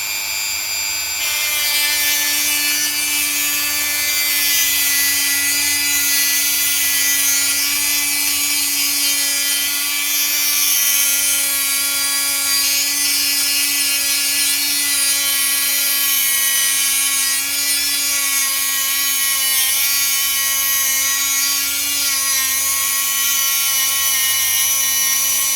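A spinning machine laps a Classic Mini ball joint, giving a steady, loud high-pitched whine with layered overtones that holds at a constant speed throughout.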